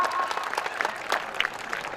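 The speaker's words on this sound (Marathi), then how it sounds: "टाळ्या वाजवा की जरा" Audience applause at a wrestling match, a dense, steady wash of clapping from a large crowd with scattered louder claps and faint shouts.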